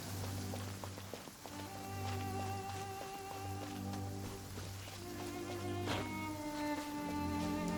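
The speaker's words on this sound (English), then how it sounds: "With rain this heavy, not only are the stars clouded, so too is my scryglass hazy." Heavy rain falls steadily in the video game Genshin Impact, a soft continuous patter under a low sustained musical drone and tones.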